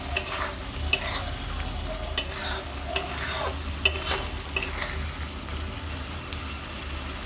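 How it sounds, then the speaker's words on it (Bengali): Ghee is stirred into egg bhujia curry in a pan: a steady close sizzle under sharp, regular spoon clacks against the metal, roughly one per second, with no talking. "আমি দিয়ে দিচ্ছি সামান্য ঘি ঘিটা দিয়ে ভালো করে নেড়ে চেড়ে"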